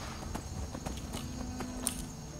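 Horse hooves clip-clop at a steady walking pace in the video game Skyrim, a string of distinct close hoof strikes over faint background game ambience.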